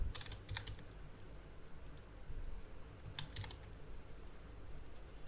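Typing on a computer keyboard, close and quiet, with short clusters of rapid key clicks separated by pauses and no voice.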